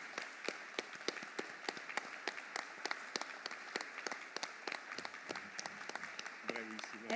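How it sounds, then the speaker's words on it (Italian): An audience at a formal assembly claps in a sparse, crisp run of distinct handclaps that thins toward the end, as a voice begins speaking in the final moments. "Come compagna di Consiglio di Presidenza vorrei proporvi un applauso per Francesca"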